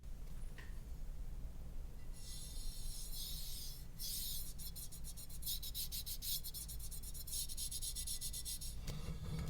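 Something runs steadily across the hollow cut-out middle piece of an Akko MOD007 v2 keyboard case, producing a continuous faint rubbing scrape with bright rasping bursts partway through, close and alone.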